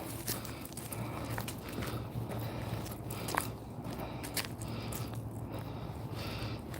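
Footsteps crunch steadily over leaf litter and debris on a trail during a walk, a faint, close, irregular crackling rhythm with no talking.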